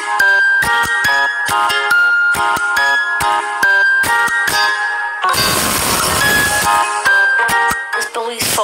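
A phone ringing with a bright, repeating electronic melody in rapid pulsing notes, loud and close, broken midway by a short burst of dense noise before the tune resumes.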